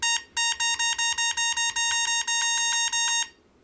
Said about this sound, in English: this computer has the most annoying error beep I have ever heard